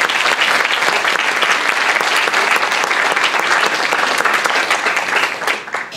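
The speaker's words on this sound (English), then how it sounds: "give you all a big round of applause for the work that you did today" Sustained applause from a school Model UN closing ceremony audience, dense clapping filling the room at steady loudness throughout, easing slightly at the very end.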